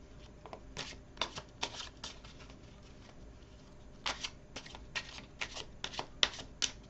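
Tarot cards are shuffled for a reading, giving quick, crisp riffling bursts in two clusters separated by a short quiet gap, fairly faint and close.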